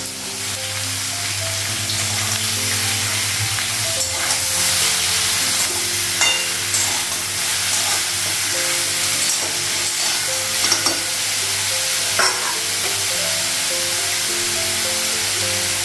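Potatoes and pointed gourd fry in a pan with a steady, loud sizzle, broken by occasional scraping stirs and clinks of a utensil against the pan, with no talking.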